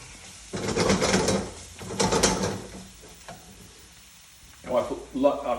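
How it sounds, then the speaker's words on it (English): Chopped onions tipped into hot oil in a pre-warmed pan, with bursts of sizzling and scraping as they are stirred, loud and close, pausing between strokes. "And we'll put in these chopped onions, soften them up a bit."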